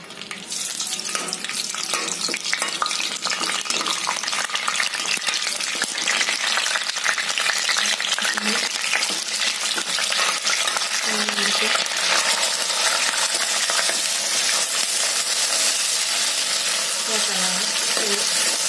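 Oil sizzles and spits in a pan as curry leaves and spice paste hit it, a bright, dense crackling hiss that grows steadier and louder, with faint stirring and a few quiet spoken words.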